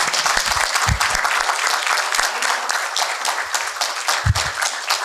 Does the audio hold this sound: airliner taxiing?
no